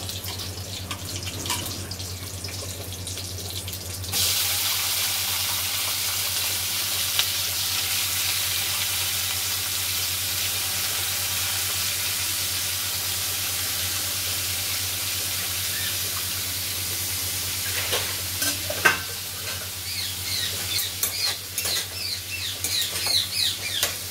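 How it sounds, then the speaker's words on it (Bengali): Potatoes frying in hot oil in a pan with cumin and chilli, a loud continuous sizzle with occasional stirring clatter near the end, close and without speech. "এবারে দেবো আলু ভাজা ভাজা করবো"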